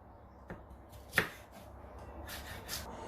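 A knife chops onions on a board in a quiet kitchen, a few sparse, soft cuts with one sharper chop, near and alone.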